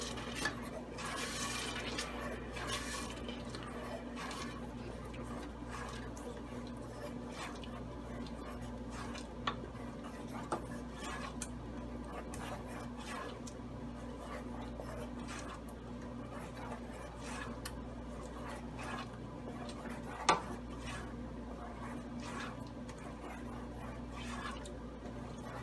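A spoon stirs tomato puree in a pan for sev usal, giving a soft, steady scraping over a constant kitchen hum, with occasional light clinks of utensil against metal.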